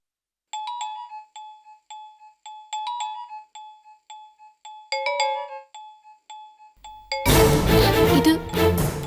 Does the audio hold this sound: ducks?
no